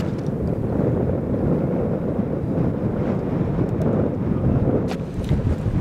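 Strong wind buffets the microphone outdoors on a disc golf course, a loud, steady roar with gusty swells throughout and no talking.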